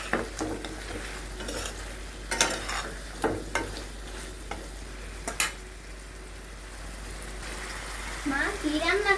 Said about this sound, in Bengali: খাসির মাংস অনেক শক্ত, একটু ভালো করে কষাতে হবে।